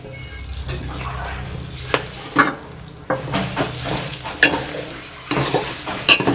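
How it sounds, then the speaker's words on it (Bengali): Rice coated with ghee and turmeric sizzles and fries in a pot, with cashews and raisins, as a utensil stirs it in steady scraping strokes, close and continuous. "যে দেখো চালটা হাঁড়িতে এবার দিয়ে দিলাম আমি"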